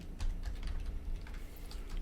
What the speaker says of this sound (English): When I was typing it in over here, I had to type it all out.